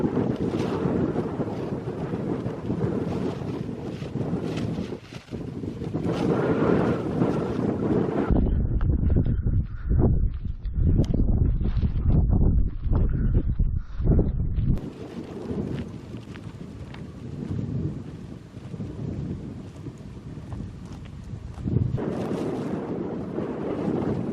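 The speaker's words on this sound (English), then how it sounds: "There's some wind at the moment actually." Strong wind buffets the microphone on an open fell in the Lake District, with a steady roar that breaks into heavier gusting thumps midway before settling back into a constant rush.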